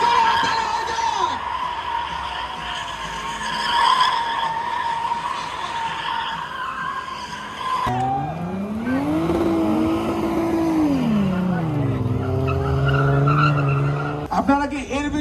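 A Toyota Chaser doing donuts at Dhaka Motor Fest 2024, with loud sustained tire squeal and skidding, then a revving engine rising and falling through the spins, with crowd noise in the background.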